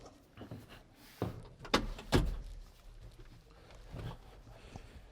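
Cab door of a Valtra S6 tractor being opened from the ground, with a couple of sharp latch clunks and a thud close by, set against quiet outdoor ambience.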